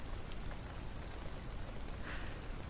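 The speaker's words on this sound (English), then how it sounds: "This one just has rain that doesn't loop." Steady rain ambience in VRChat, a continuous soft hiss of falling drops that never loops, with one brighter swell near the end, no thunder and no voices.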